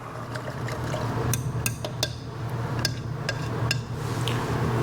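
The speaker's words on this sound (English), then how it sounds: "So I'm going to take a stir rod real quick. Just agitate them." A stir rod clinks and taps against glass while beet extract is agitated, giving quick irregular clicks over a low steady hum.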